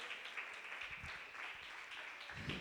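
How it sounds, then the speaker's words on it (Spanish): Applause from a church crowd, a dense wash of clapping continuing steadily at moderate volume. "Denle un fuerte aplauso a Jesús, muchachos."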